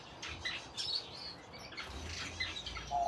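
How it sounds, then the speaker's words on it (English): A female canary in an outdoor breeding aviary gives faint, brief chirps and tweets over low background noise, with soft wing flutters nearby. "Look how beautiful she is."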